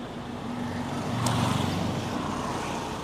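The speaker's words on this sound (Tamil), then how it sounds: "வண்டி கிளம்புது." A Toyota Innova 2.8 G pulling away, a low engine drone rising slightly as the vehicle moves off, heard nearby as one steady rumble without speech.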